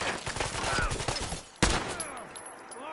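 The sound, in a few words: gunfire returning fire in video game Fallout 4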